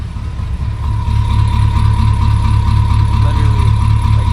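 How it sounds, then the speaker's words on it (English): A 7.3 Powerstroke diesel truck idles in whisper mode, heard from behind at the exhaust as a low, steady, muted rumble with a faint hum on top, with no voices. "This is what the whisper mode sounds like out the back"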